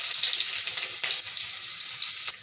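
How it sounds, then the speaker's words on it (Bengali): Onions frying in hot oil in a kadai previously used to fry fish, a steady loud sizzle with crackling bursts and no talk. "এখন পেঁয়াজগুলো দিয়ে দিচ্ছি।"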